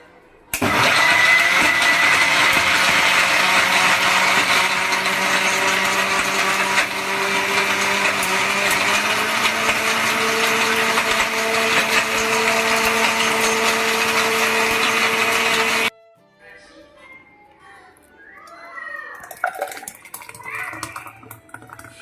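A mixer grinder whirs loudly for about fifteen seconds as it blends mixed fruit and milk into a milkshake, its motor tone shifting slightly partway through, then stops abruptly, leaving faint clinks and handling noises.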